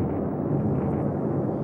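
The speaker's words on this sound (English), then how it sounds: "It was a massive, horrendous explosion." The Sultana steamboat's boilers blowing up about four miles above Memphis: a loud, sustained, roaring rumble of an explosion that fills the clip, with no talk.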